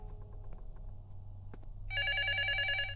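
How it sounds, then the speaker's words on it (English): A telephone rings in the indie horror game Luto, a sharp electronic trilling ring that starts suddenly after quiet ambience and continues loud and repeating, with no voices. "The phone is like, I need you to answer me now."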